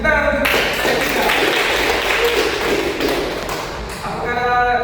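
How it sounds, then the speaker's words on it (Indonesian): A small classroom group in a study-guidance session claps for the speaker, a loud, close burst of hand claps and thuds that fades briefly and swells again, with a voice at the start and the end. "Tepuk tangan untuk saya"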